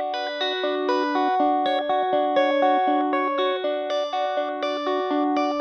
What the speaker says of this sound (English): The way that you mix the delays in, because you don't have to modulate the delays, is like we just have a guitar part